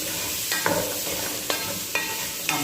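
Pancit canton noodles frying with soy sauce, a steady sizzle broken by rhythmic spatula scrapes and taps against the pan about every half second, close up with no talking.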